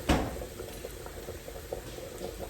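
Water hits a hot cast iron pan while cooking smothered fried chicken, a sharp hiss at the start settling into soft, steady bubbling and sizzling close by.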